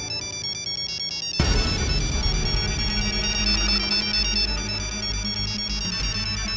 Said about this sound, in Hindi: एक मिनट, उनका फोन है क्या?